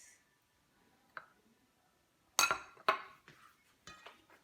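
Eggs go into a glass mixing bowl for pineapple upside-down cupcake batter, giving a small clink followed by two louder glassy knocks and clatters, then a few lighter taps, close and clear with no talking.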